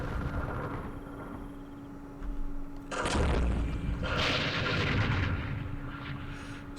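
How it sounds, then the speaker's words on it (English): Mortar fire in the Vietnam war game Campaign Series Vietnam: a low thump near three seconds, then a broad rumbling blast rolling on for several seconds over a steady hum. "Mortars, mortars."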